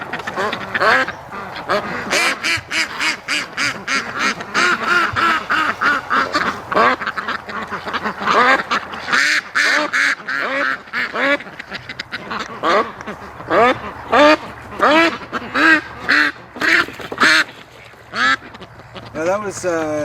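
Muscovy ducks at a lake: a dense run of repeated quacks and honks, close and loud, with the calls overlapping and a voice talking through it.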